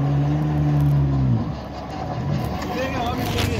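Off-road vehicle engine revving hard at an off-road event, a loud low drone that drops off after a second, followed by rougher engine noise while people shout nearby.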